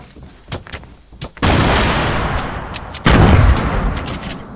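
Gunfire and grenade blasts in a squad-based shooter video game: scattered sharp shots, then two loud, sustained explosions that roar and decay, the second starting partway through.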